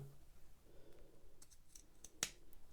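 Scissors make a single sharp, close snip into fabric where a pocket meets a side seam on a Know Me ME2081 sewing pattern garment, against a quiet room.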